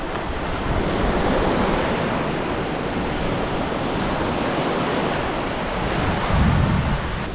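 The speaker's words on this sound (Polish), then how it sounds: "Dla tego szumu oceanu" Ocean surf rolling onto the beach at Nosy Iranja, Madagascar, a loud, continuous wash of waves mixed with wind rumble on the microphone, with no voices.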